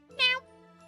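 A cat gives a single short, bright meow at close range, rising and then fading, with a soft jingle underneath and near silence after it.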